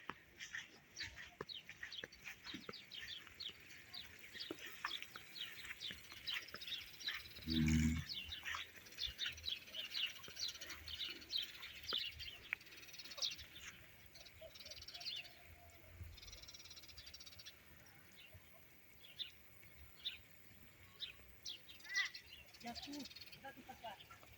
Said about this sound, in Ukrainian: Горобці цвірінькають.